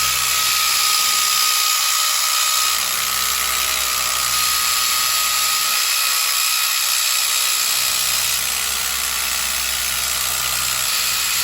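A rotary polisher spins a buffing pad across a trashed Mustang wheel, giving a continuous high whine that holds steady throughout, close and loud, with slight dips as the pad moves, and no speech.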